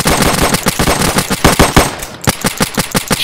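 Rapid machine gun fire in a Roblox roleplay video game comes as dense, loud bursts of evenly spaced shots. There is a brief break, then the bursts continue.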